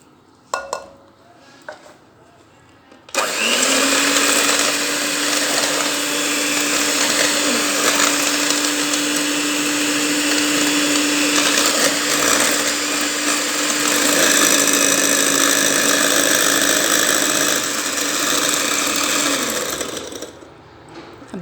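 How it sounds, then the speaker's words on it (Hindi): An electric hand beater whisks sugar and butter for a cake sponge in a bowl, a loud, steady motorized whir with a constant hum and scraping clatter that runs for most of the clip before stopping. "तब तक हमने इसे बीट करना है हैंड बीटर से।"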